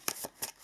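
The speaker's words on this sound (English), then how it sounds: "shuffle a couple of more times here" Tarot cards being shuffled by hand in a few quick, crisp riffling bursts, close up and with no one talking.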